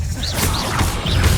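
An Incendio fire spell cast in the Hogwarts Legacy game on PC: a loud, dense burst of fiery whooshing and crackling with swishing sweeps, steady and close for about a second and a half.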